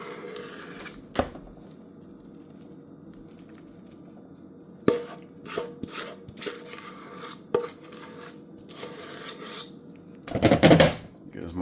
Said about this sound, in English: Evenly distribute my flour to my bundt cake pan as evenly as possible.